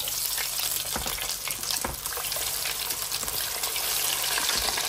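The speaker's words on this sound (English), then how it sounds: "Okay, time to fry these up." Potato chips fry in hot oil with a dense, steady crackling sizzle, close and fairly loud, rising and falling slightly in intensity with no voices over it.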